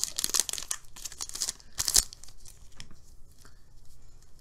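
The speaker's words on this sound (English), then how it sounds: "these don't tear down the side like they're supposed to" Crinkly plastic wrapper of a Digimon trading card game booster pack being torn open by hand, a few sharp tearing rips followed by softer crumpling and crinkling, close and clear with no talk.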